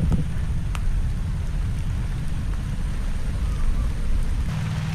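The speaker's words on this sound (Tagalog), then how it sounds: "Malakas. Malakas yung ulan." Steady rain pours down in a dense, continuous wash of noise with a low rumble underneath, no voices.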